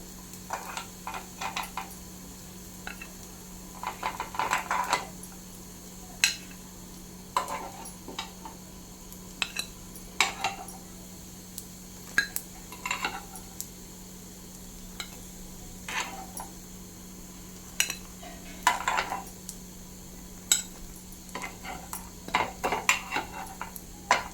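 Fried sago snacks being lifted into a vessel: quiet, intermittent clinks and scrapes of a utensil against a pan under a faint steady hum, with soft sizzling in between.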